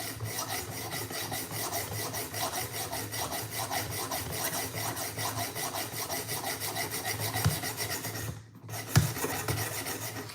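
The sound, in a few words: sharpening Benchmade knife blade on sharpening rig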